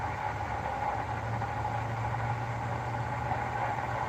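A truck engine idles steadily with a low, constant hum that stays even and unbroken throughout, close by and running alone with no one talking.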